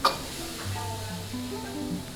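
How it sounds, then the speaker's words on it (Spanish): Rice being fried in hot oil for Peruvian chifa-style chicken chaufa, giving a steady low sizzle with scraping stir sounds throughout, close and moderately loud, with no talk over it. "El secreto es dorar el arroz, freír el arroz, ¿no? Ahí estamos friendo el arroz."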